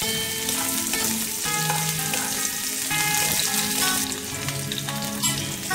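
Medium-sized sliced onion fries in a pan for a home-style Bengali biryani, with a bright steady sizzle and intermittent scraping stirs of a spatula, heard up close with no talking.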